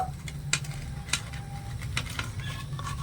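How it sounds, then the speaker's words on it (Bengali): Dry red chillies fry lightly in a pan, giving a soft steady sizzle with a few sharp clinks of utensil against metal. "শুকনো লঙ্কাগুলো আমি দিয়ে দিচ্ছি হালকা করে একটু ভেজে নেব"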